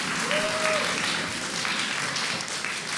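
Studio audience applause on a televised karaoke competition show, steady dense clapping from a crowd throughout, with a brief voice tone over it.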